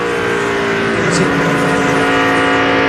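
A NASCAR stock car engine at the 2002 Pennsylvania 500 roars loudly at high RPM, a dense, sustained buzzing drone that stays close and steady for a few seconds without a pause.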